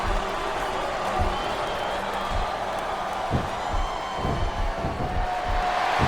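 A capacity arena crowd cheers and applauds in the WWE SmackDown vs. RAW 2007 wrestling game, a sustained roar of clapping and whoops under rhythmic impact thuds, with commentators talking over it.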